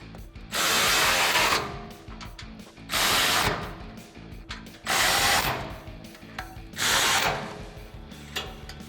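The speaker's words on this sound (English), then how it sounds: "Now grab a 16mm socket and a 16mm wrench and tighten down the smaller bolt in the top upper corner." Socket wrench ratcheting as bolts are tightened on a 2013-2018 RAM 1500 Body Armor 4x4 Eco-Series front bumper with a 16mm socket and wrench; four loud bursts of rapid clicking, each about a second long, separated by short pauses.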